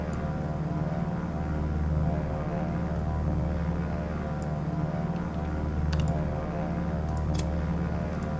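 Dive bomber aircraft in a video game give a steady, droning propeller engine rumble that swells and eases slightly throughout, with a few faint clicks over it.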